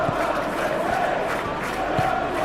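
A stadium crowd in PES 2021 roars in a steady, dense swell after a clean tackle by a forward, with a few faint voices and thuds rising out of the continuous roar.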